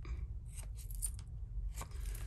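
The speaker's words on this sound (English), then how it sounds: "Get a pair of scissors and make sure I trim this up." Scissors trim a paper card with a few quick, crisp snips and light scraping, heard close and fairly quiet with no talking.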